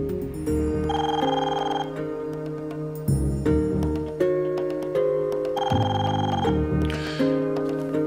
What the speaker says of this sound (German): Entschuldigen Sie mich, das Telefon.